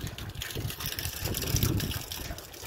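Clean water gushing steadily from a pumped outlet into a drum as it fills, a continuous loud rushing wash with no talk.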